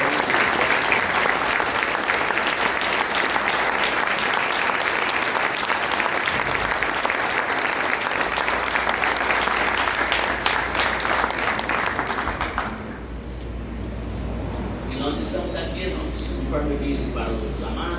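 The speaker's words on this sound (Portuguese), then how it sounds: "dê uma linda salva de palmas para o Senhor." A church congregation at an anniversary celebration service gives loud, dense, sustained applause for a long stretch, then it thins out and fades into quieter room sound near the end.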